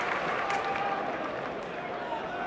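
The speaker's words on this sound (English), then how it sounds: "Round of applause in the West Stand for Josh Hodgson returning to the dugout." Steady applause from the West Stand crowd at a 2010 rugby league match between Hull KR and Crusaders, a continuous far-off wash of clapping.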